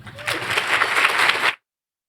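An audience applauds to welcome keynote speaker Joan Mooney at a women and leadership conference. The clapping is steady and moderately loud for about a second and a half, then cuts off abruptly into silence.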